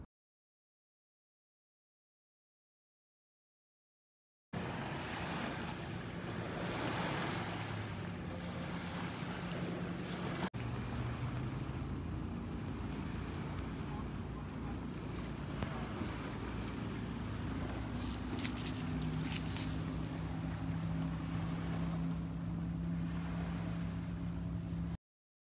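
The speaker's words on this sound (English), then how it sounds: "Currently at the Cherry Creek Reservoir, kayaking for the first time." Kayaking on Cherry Creek Reservoir, with steady wind buffeting the microphone and low lapping water over a long stretch after a silent start, occasional faint splashes and no talking.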